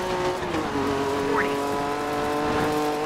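A Dirt 3 rally car's engine drones loudly in steady tones, with a quick rising whine as the gears shift up and brief tire noise against the continuous roar.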